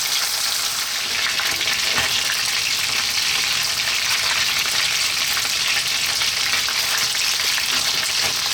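Chicken thighs fry in a pan for an Italian garlic chicken tomato stew, giving a loud, dense, continuous sizzle up close with no voices over it.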